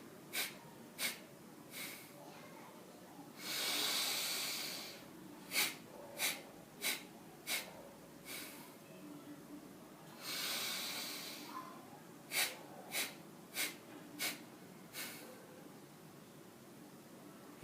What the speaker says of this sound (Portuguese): uma das coisas que ajuda em termos de respiração é um pranayama do coelhinho